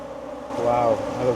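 A swarm of killer bees in Belize hums loudly and close by, their flapping wings making a steady, wavering buzz that swells partway through.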